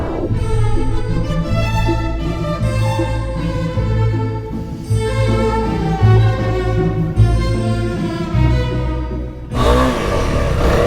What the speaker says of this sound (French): C'est la première fois que je roule sur une plage en moto.